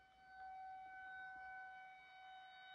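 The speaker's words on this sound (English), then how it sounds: "There goes the sirens." At one o'clock, a faint, distant civil defense siren sounds, holding a steady, drawn-out wail throughout the short stretch with no voices over it.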